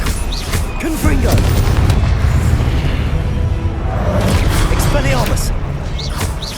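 A Confringo fire blast spell goes off in Hogwarts Legacy, a deep booming burst that rumbles on steadily amid the din of combat, with voices shouting over it.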